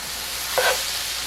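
Vegetables, including black beans and butternut squash, sizzle steadily in a hot oiled skillet while a brief scraping stir rises over the hiss, with no talking.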